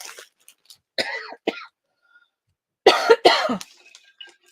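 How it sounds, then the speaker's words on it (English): Several sharp coughs, the first few spaced out, then two harsh bursts close together, with a faint throat clear, near and fairly loud. "Sorry, I'm coughing."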